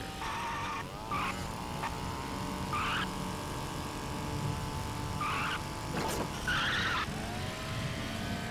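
Car tires skid and squeal under the handbrake in the Duke Nukem video game, with several short screeching bursts over a steady engine drone and no talk.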